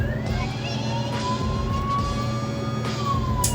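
An emergency vehicle siren in a driving simulation wails steadily and loud, its tone sweeping slowly upward then dropping near the end over a constant engine hum.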